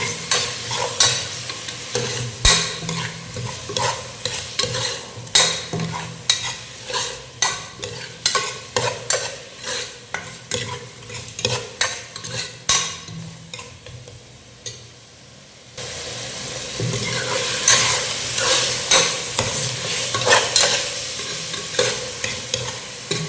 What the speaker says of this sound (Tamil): ஸோ உருளைக்கிழங்கு போட்டுக்கலாம். சேர்த்து வெங்காயத்தோட கொஞ்சம் வதங்கிடாங்க.